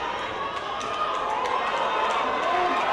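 A football match crowd cheers and roars in a dense, sustained wash of voices that holds steady and swells slightly toward the end.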